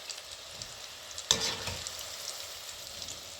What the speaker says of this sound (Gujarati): એ પણ આપણે વ્યવસ્થિત રીતે સડી જવા દેવાના છે સિંગ ભજીયા